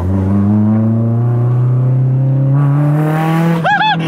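A Honda S2000 accelerates hard, its engine revving up in a loud, rising drone heard from inside the car, ending in a short burst of laughter.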